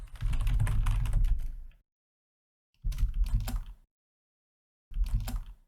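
A computer keyboard is typed in three separate bursts of rapid, close keystrokes while JavaScript code is written, with silent pauses between the bursts.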